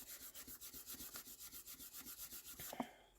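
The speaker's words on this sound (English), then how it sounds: "fold that back over the top, and then just give that a really good rub" Folded designer series paper is rubbed hard along its crease to set it, a fast, regular series of soft scraping strokes, close and quiet, ending with a small tap.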